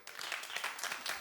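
Short burst of studio audience applause at a daytime talk show, a dense patter of clapping that stays fairly even for just over a second.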